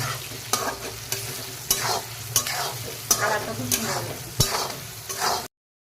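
Onions frying in a pan for a chicken feet curry, a steady sizzle broken by sharp, regular scrapes of a stirring spoon roughly every half second to second, close and clear with no talking.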